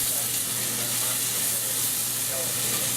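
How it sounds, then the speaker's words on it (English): Pre-cooked onions sizzle steadily in a frying pan, a dense continuous hiss with faint crackles under it, close and fairly loud throughout. "Let's get our onions in the pan,"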